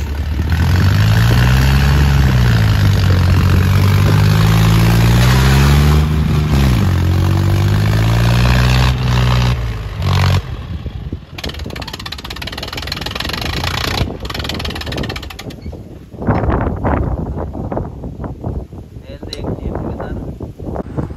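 A tractor engine runs loud and close with a steady low drone while its front is lifted, then drops to a rougher, quieter rumble for the rest.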